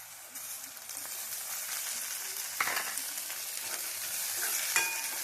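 Onions frying in a pan as tomatoes go in, a continuous crackling sizzle with a few brief stirring clinks, moderately close and steady.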